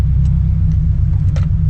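A Subaru BRZ fitted with a Tomei header, a UEL header and a 4.30 differential, giving a loud, steady, deep engine rumble up close that holds throughout with no talking.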